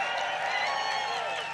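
A crowd cheers at a Donald Trump rally in Albuquerque, a brief, loud and continuous wash of voices and applause that fades slightly at the end.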